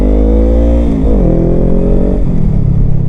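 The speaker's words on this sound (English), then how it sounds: "listen to this engine and this exhaust when I pull away" A loud 2020 Honda Rebel 500 motorcycle engine revs and pulls away close by, its throaty exhaust rising in pitch through the gears with a steady, rumbling drone.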